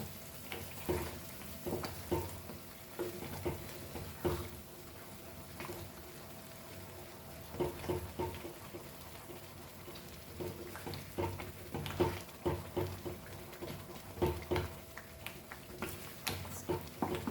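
Dal fry being stirred in a pan with a spoon, soft scraping and low sizzling in irregular bursts throughout, fairly quiet and close, with no talk.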